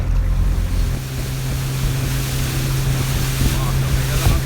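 A boat's motor drones steadily and loudly over rushing water and wind buffeting the microphone, with no clear build in pitch across the few seconds.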